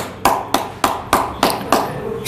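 Six sharp, evenly spaced hand claps ring out close by, one about every third of a second, each a crisp slap with a short tail.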